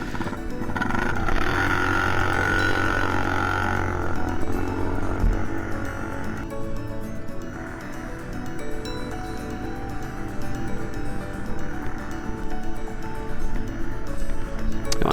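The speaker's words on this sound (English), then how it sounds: "So for this whole ride, his four-wheeler was just obnoxiously loud." A four-wheeler with its muffler blown apart, silencer and packing gone, roars loud and raspy on a snowy ride, the engine note rising and falling steadily for the whole stretch, close and overwhelming.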